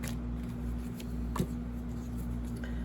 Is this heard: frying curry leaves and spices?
no